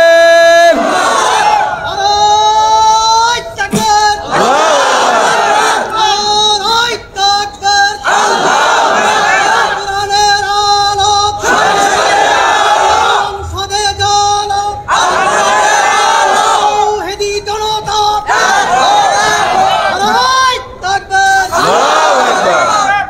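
A large crowd at a political rally chants loudly and repeatedly in answer to a takbir call, with surging shouted bursts and brief pauses between waves.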